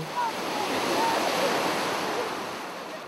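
Sea waves wash onto a swimming beach near a village where fresh water meets the sea, a steady, full surf roar heard up close with faint higher cries mixed in.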